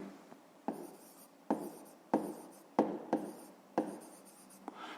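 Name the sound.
writing by hand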